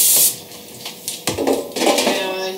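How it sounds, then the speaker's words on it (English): Short spritzes from a cooking spray bottle coat raw chicken before air frying, several quick hissing bursts mixed with light clicks and clatter in a kitchen. "I'm just going to spray the chicken just on top, just a little bit, just to give it like a little bit of moist."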